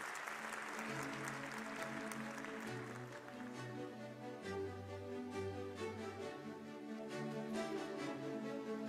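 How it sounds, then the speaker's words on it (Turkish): Audience applause at a ceremony greets a provincial education official invited onto the stage, steady sustained clapping from a crowd, moderately distant, with music-like tones under it throughout. "güçlü alkışlarınızla sahneye davet ediyorum"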